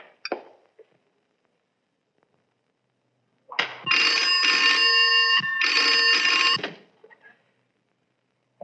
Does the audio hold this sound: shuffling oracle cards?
no